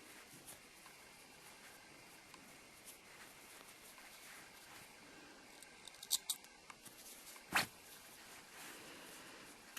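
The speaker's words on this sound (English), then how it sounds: "Snip that off." A couple of quick, quiet scissor snips cut off the yarn tail of a crochet granny square, close and isolated against soft handling noise in a calm room.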